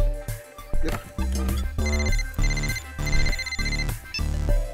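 A mobile phone rings with an incoming call in a film scene, a loud melodic ringtone playing in repeated tonal phrases with no one speaking.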